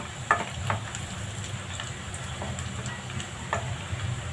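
Onions sizzle in a frying pan while lumpia filling is cooked, giving a steady, close crackling hiss with faint scattered pops and no voices.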